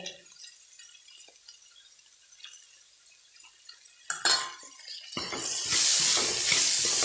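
Spiced bell pepper curry with coriander powder and garam masala stirred in a pan, starting with faint scattered clinks, then a louder scrape at about four seconds, and finally steady, loud sizzling and stirring for the last two seconds.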